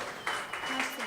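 A studio audience at a TV talk show breaks into applause welcoming a singer, a brief burst of clapping that swells quickly, with some voices mixed in.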